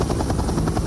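Firefighting helicopters work over a fierce wildfire, dropping water on the flames; a steady, continuous rotor thumping and engine drone fills the whole stretch at close, loud range.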